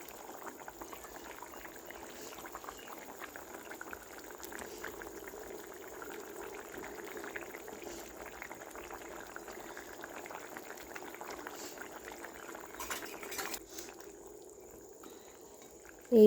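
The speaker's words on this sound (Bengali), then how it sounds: "আর যখন এভাবে টকবক করে ফুটে উঠবে তখন আমি এর উপরে লবণ দিয়ে মাছগুলো অ্যাড করব" Fish curry boils in a pot with a soft, continuous bubbling simmer, fairly quiet and steady throughout, with a brief clatter near the end and no voices.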